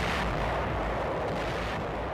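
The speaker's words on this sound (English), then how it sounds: "troops of the 14th Corps bring up artillery to attack the Clark Field area, which is subjected to heavy shelling" Heavy artillery shelling around Clark Field in archival Philippine war footage, a dense continuous rumble of distant blasts without any talk.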